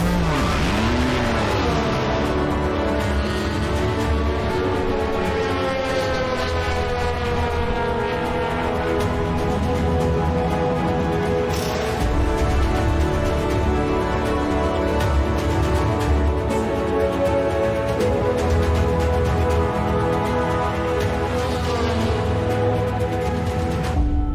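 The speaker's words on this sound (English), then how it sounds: "the roar of the engine" A DTM race car engine roars through a sim race at Monza, a loud continuous high-revving whine with rising and falling gear pitch sweeps, heard alone without talk.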